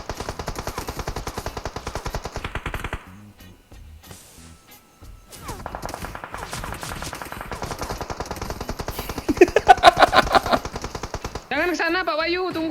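Rapid automatic gunfire in a multiplayer video game shooter crackles in fast bursts, broken by a short lull, then returns louder with sharper shots near the end, while players talk over it.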